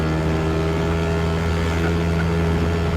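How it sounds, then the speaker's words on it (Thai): A fast car engine in the video game GTA San Andreas drones loudly and continuously with a steady, revving hum, and no voices are heard. "เซิร์ฟนี้รถแรงๆฟังเลย"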